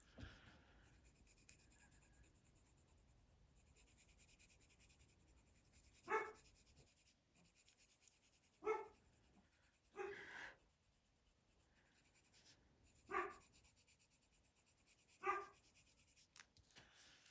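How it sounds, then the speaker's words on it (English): Another dog barks outside at a distance, faint single barks recurring every couple of seconds over a quiet indoor room with soft scratching. "I can vaguely hear another dog outside barking."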